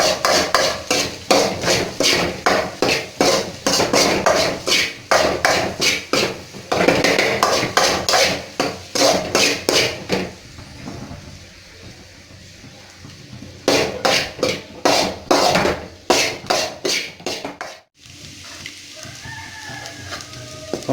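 Egg masala is mixed in a metal pan, producing rapid, loud rhythmic clanks and scrapes of a utensil against the pan in fast bursts, with a few brief pauses before the clanking resumes; no speech.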